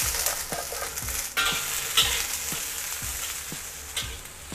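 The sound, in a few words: stir-frying long beans and cured duck intestine in wok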